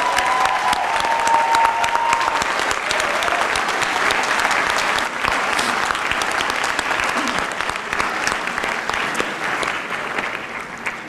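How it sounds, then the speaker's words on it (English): A large convocation audience gives a long, loud, sustained round of applause for people on stage, dense clapping filling the hall for about eleven seconds with faint crowd murmur beneath. "Let us give a huge round of applause to everyone here on stage for the years of dedication and hard work"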